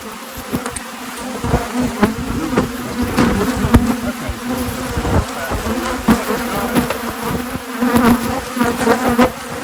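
Honey bees buzz densely and continuously up close during a hive inspection, with frequent knocks and clicks of frames being handled through the hum.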